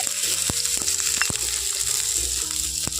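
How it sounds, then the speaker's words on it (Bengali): Chopped onion frying in hot oil in a wok, a bright continuous sizzle punctuated by sharp clacks and scrapes of a spatula against the pan. "বড় সাইজের একটা পেঁয়াজ কুচিয়ে রেখেছি সেটা এখানে দিয়ে দিচ্ছি"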